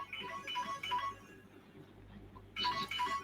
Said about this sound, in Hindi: जरा सर एक फोन आ रहा है